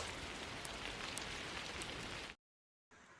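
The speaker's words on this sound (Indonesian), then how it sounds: "Sampai hujan tiba" Steady rain pours down outdoors in a film scene, a dense hiss of drops on surfaces. The sound cuts out abruptly for about half a second, then resumes.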